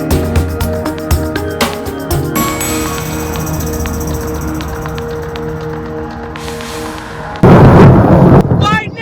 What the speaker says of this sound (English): Lightning! Thunder, freezing rain just happened